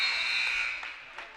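A loud electronic buzzer sounds at the end of a quarter in a high school boys basketball game. It holds a steady harsh tone for about a second, then fades into faint crowd noise.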